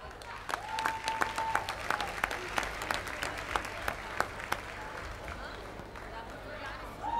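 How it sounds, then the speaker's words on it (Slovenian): Spectators at an international rock and roll dance competition final applaud a couple: a crowd claps, with sharp individual claps standing out in an uneven rhythm, and a voice sounds faintly over it. "Aplavz!"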